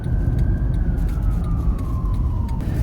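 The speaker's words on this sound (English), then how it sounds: "There is an ambulance coming" An ambulance siren passes along the road, a steady wailing tone that slowly drops in pitch over heavy traffic rumble, fairly close and continuous.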